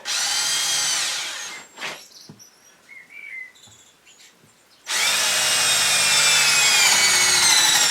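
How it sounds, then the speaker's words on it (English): Power drill boring a hole in a solid oak trunk for an owl carving, whining loudly at close range, pausing amid faint birdsong and clunks, then starting up again for a long continuous run. "So there's our hole drilled, and there's our pipe ready to cut."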